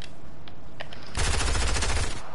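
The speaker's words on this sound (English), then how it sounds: "Someone shooting, bro. SMG." SMG gunfire in the video game Fortnite: a loud, rapid automatic burst starts about halfway through and keeps going to the end, after a few faint earlier shots.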